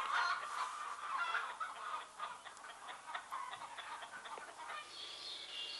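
Hens cluck and squawk in a busy, close chorus, with a rooster among them, a dense run of calls that thins out toward the end.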